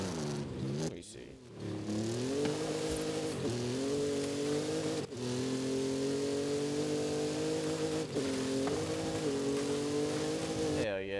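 A 1992 Ford Escort RS Cosworth engine in the video game Forza Horizon 5 drones steadily under load, with its pitch rising and dipping between gear changes and a few sharp breaks. Someone talks over it.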